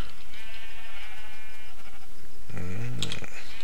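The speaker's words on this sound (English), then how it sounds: "Oh, my lovely coloured sheep." A sheep in the Minecraft video game gives a short bleat near the end, following a few seconds of quiet game ambience.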